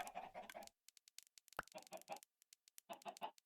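Chickens in the Minecraft video game cluck in short, repeated bursts with brief silent gaps, loud and close, punctuated by a sharp click partway through.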